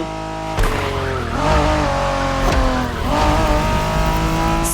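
Honda NSX racing in The Crew Motorfest on Xbox One: a loud, close engine roar climbing and dropping through quick gear changes, with tire squeal and skidding under the revs, no talk.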